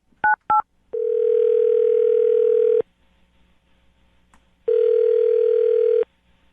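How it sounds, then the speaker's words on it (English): Telephone dial tone before calling a phone number: two quick dialing beeps, then a long steady tone, a pause, and a second long steady tone, clear and close with no talking. "I'm going to dial his phone number right now"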